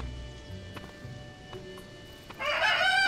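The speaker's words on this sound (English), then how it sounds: "Chickens!" Chickens in the video game Zelda: Tears of the Kingdom cluck and crow, a sudden loud burst of bird calls near the end that follows a few quieter clip-clop taps.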